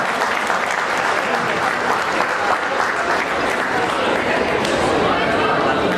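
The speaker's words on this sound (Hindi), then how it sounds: "आगा शबीर साहब तालियों की गूंज में स्टेज पर तकरीर के लिए तशरीफ ला रहे हैं।" A college welcome party audience claps steadily and loudly as a speaker comes onto the stage, the applause dense and unbroken, with a little crowd chatter mixed in.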